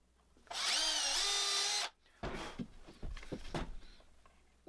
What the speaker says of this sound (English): I also have to drill the hole and sink the screw all at once